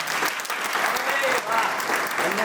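An audience at a community samaj program claps loudly and continuously, a dense close ripple of hand claps throughout.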